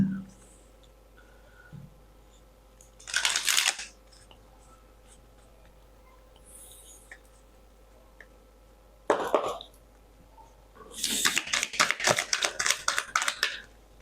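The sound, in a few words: tarot cards being shuffled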